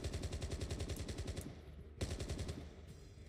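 Rapid automatic gunfire from a video game running in an emulator, a dense stream of shots for about a second and a half, a brief pause, then another burst; no talk.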